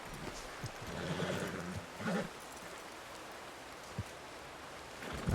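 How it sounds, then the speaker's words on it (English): A new horse in the Red Dead RP video game stamps and snorts with soft clip-clop steps and a brief whinny-like burst, fairly quiet over a faint ambient wash. "He's a new horse."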